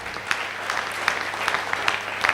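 Audience applause fills a hall during a speech, brisk, fairly close clapping with distinct sharp claps over a steady patter.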